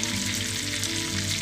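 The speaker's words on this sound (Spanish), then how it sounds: "Aquí ya están mis camarones y están friendo." Shrimp fry in hot oil, giving a steady, dense sizzle and crackle that stays close and even throughout, with no voices.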